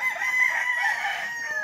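Roosters among broodcocks and broodstags at a gamefowl farm crow loudly and nearby in one long drawn-out call, with faint clucking and farm ambience underneath.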